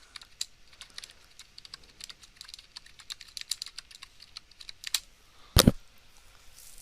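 Quick, irregular taps on a computer keyboard while scores are logged at a bowling event, light clicks scattered over several seconds, followed by one loud thump near the end.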